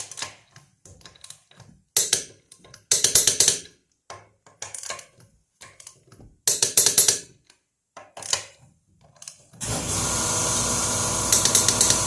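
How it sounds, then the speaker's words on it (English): A torque wrench tightening the lug nuts on a 2017 Kia Niro in a cross pattern: repeated short clusters of sharp metallic ratcheting clicks separated by pauses, close and alone, ending in a steady hiss. "when you're done torquing all of your lug nuts, each wheel, cross pattern, 95 pound-feet"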